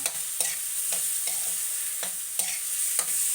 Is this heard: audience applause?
no